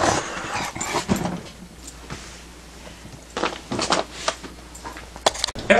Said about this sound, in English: We'll be right back after these messages from our dog.